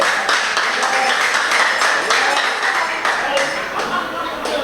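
An audience at a town hall meeting in Saddlers claps in a steady, dense wash of applause, with some voices mixed in throughout.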